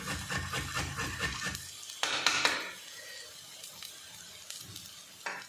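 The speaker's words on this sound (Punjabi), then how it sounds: "ਭੁੰਨਾਂਗੇ ਅਸੀਂ ਸਾਡਾ ਪਿਆਜ਼ ਇਹ ਭੁੱਜੀ ਜਾਂਦਾ ਹੈ" Onion frying in a pan gives a soft sizzle, with scraping and stirring strokes against the pan in short bursts.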